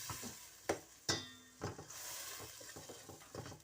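Mutton, potatoes, peas and other vegetables fry quietly in a pot under a soft sizzle, with several scraping knocks of a spoon as it stirs.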